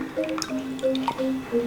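Fresh water trickles and drips into a bowl in short bursts for a Balinese vinegar fruit salad, with small splashing plinks and gurgles, close up and with no talking.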